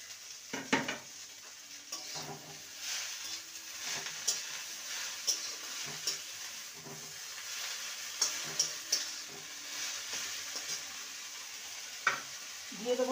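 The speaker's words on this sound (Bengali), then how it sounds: "এবারে আমি কুমড়ো পাতাটাকে ভেজে নেব।" Pumpkin leaves frying in a pan with onion, giving a soft continuous sizzle under intermittent light stirring scrapes and small clicks of the utensil, no voices.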